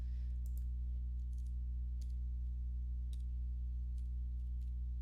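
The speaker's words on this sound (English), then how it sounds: "typing with one hand here" Sparse, irregular clicks of keys on a computer keyboard sound over a loud, steady low electrical hum.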